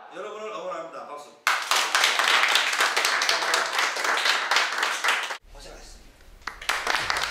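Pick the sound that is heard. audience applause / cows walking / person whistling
audience applause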